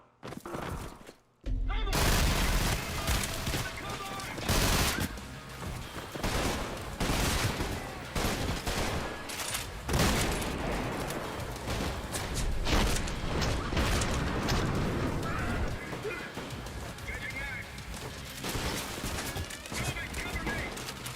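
Gunfire rattles through a frantic first-person shooter firefight in Trepang2, loud bursts and rapid volleys repeating almost without pause over busy game sound, with voices talking now and then.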